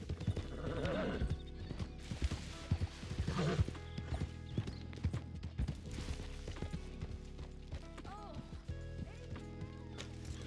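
Hooves clip-clop at a running pace while a horse whinnies a few times, close by, over ambient game music and occasional voices.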